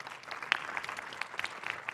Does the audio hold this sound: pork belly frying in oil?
no